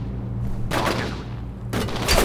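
Bursts of enemy gunfire in the video game F.E.A.R., two loud crackling volleys of rapid shots separated by a short pause, over a low steady background rumble.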